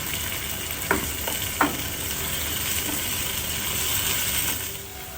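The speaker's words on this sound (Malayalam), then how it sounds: "ഈ വെണ്ടയ്ക്കായും തക്കാളിയും വഴണ്ട് വരാനായിട്ട്" Okra and tomato sauté in a pan for Onam sambar, giving a steady, dense sizzle throughout with a few brief scraping knocks of a spoon stirring near the start.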